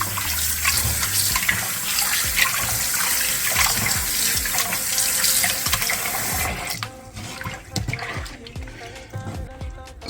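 Tap water runs steadily over scallops being rinsed, a close, continuous splashing hiss that thins out into lighter drips and trickles toward the end.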